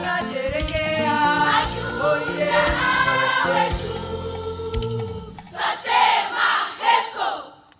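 A large crowd at the Kenya Defence Forces Day 2023 celebration at Embakasi Garrison gives loud, sustained group chanting that ends in a burst of cheering and shouts.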